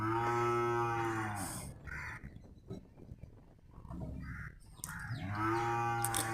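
Cattle at a temple chariot festival in Kannapuram give two loud, drawn-out moos close by, one at the start and one at the end, with a quieter gap of crowd ambience between them.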